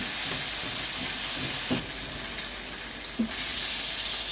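Red and green bell peppers frying in a little oil in a pan, a steady dense sizzle and hiss throughout with a couple of faint clinks from stirring, close and without any talk.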